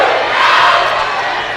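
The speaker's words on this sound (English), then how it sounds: "As the crowd is going, wow." Basketball tournament crowd at a holiday championship game roars with loud, sustained cheering and shouting that swells in the middle and eases slightly toward the end.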